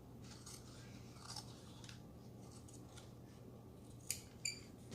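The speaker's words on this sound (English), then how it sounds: "I'm just going to trim it down quickly here, just because I don't really need any of that excess after where my tape is" Scissors trim excess tape off the cover of a Little Golden Book being made into a journal, quiet snipping and rubbing close by, ending in two crisp distinct cuts.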